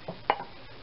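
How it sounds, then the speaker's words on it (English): A spoon stirs a béarnaise sauce reduction in a pot, two brief soft scrapes within a second, faint and close. "I'm going to stir this some more"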